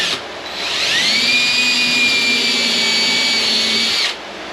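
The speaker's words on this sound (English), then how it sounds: "drill another hole" A power drill spins up and runs steadily at high pitch for about three seconds, then cuts off abruptly.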